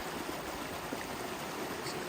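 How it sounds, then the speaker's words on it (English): A forest stream along the Appalachian Trail in Virginia, a steady broadband rush and babble of flowing water, close and even, with no voices. "This is a good stream to collect water."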